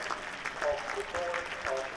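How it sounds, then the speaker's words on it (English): Cricket crowd applauding at a Durham v Middlesex one-day cup match, steady moderate clapping throughout with a commentator talking over it. "Good appreciative applause for Will Rhodes"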